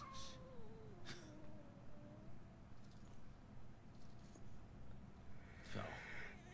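Cat meowing in the video game Murdered: Soul Suspect, several drawn-out wavering meows spread across the clip, the last one louder and rising, over a low ambient game background.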